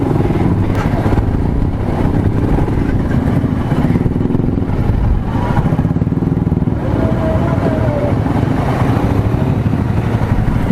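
A motorcycle grinds along a rough, tough road toward Pangong Tso from Hunder, its engine droning loudly and steadily with rattling clatter from the bumpy surface and some voices in the background.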